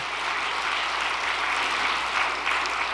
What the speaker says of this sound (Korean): 다시 한번 박수 한번 보내주시기 바랍니다.